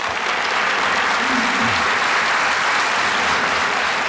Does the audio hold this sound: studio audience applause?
yes